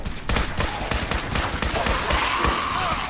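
Rapid bursts of gunfire in the video game Fallout 4 crack out densely and loudly, with shots overlapping one after another through the whole stretch.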